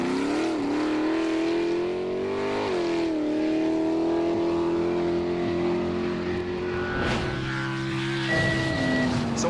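Pro drag car powered by a roughly 720-horsepower 400 Chev engine makes a run, its loud, close engine note holding a steady drone and stepping up in pitch through a couple of gear changes before a sharp late surge.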